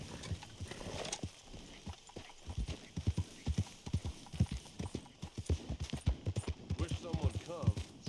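Steady rhythmic clip-clop of horse hooves in the video game Red Dead Redemption 2, close and even-paced, with a voice talking over the steps throughout.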